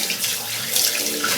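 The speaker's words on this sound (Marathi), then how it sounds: "आणि सगळं झालं की छान थंड पाण्याने तोंड धुवायचंय." Cold tap water runs and splashes close by as someone washes their face at a sink, a steady hissing flow with no voices.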